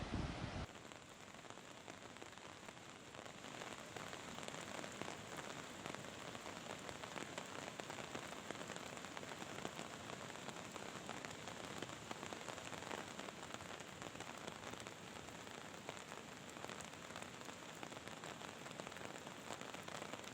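Steady rain falling in Barkot in the Yamuna valley, a dense, even hiss of drops on surfaces that continues unbroken and fairly faint, with no voices.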